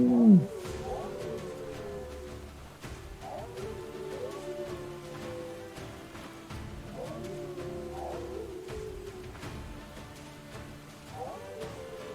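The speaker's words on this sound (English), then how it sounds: "And they're howling." Wolves howling in the video game Stoneshard, long rising and falling wavering cries repeating every few seconds at moderate volume over a low ambient backdrop, opening with a loud burst.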